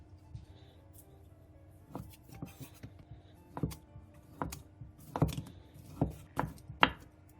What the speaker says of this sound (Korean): 햄을 취향에 맞게 먹기 좋은 두께로 채 썰어주세요.